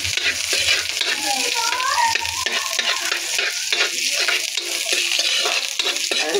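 Onions sizzling steadily in hot cooking oil in a pan, with a busy continuous crackle and occasional stirring scrapes, close and loud throughout for a fish paksiw dish.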